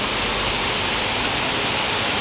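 Steady, even rain falls throughout, a dense broadband hiss with no distinct drops standing out and no voices over it.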